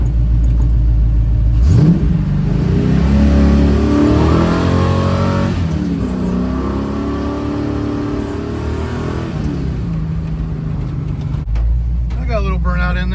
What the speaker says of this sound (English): I got a little burnout in there.